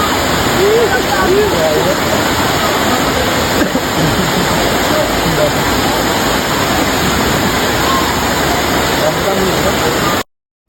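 Falls 3 in Pangasinan roars with a dense, steady rush of falling water, loud and close, holding a constant level before cutting off abruptly near the end.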